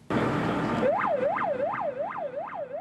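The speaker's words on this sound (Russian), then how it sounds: "Если скорая помощь мчит по проезжей части, как говорят в народе, с мигалками и сиреной" A loud burst of broadband noise gives way to a wailing ambulance siren, sweeping up and down in a steady repeating cycle, close by.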